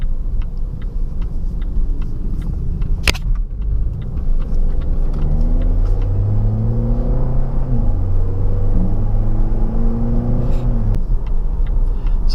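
A 2017 Volvo V90 Cross Country pulls away from a stop and drives on, its engine note climbing loud and close as it accelerates, with a brief click early on.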